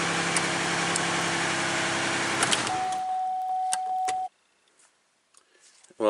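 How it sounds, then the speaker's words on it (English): A car engine idles with a power steering fault, rumbling steadily before fading. A thin, sustained whine from the power steering pump rises clearly above it for a couple of seconds, then drops to near silence. "if you're hearing that sound, you've got a power steering issue"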